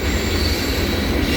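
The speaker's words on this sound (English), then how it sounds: "That train is like huge, man." A long Norfolk Southern freight train rolls past close by, a loud continuous rumble of wagons and wheels with metallic screeching, steady throughout with no voices.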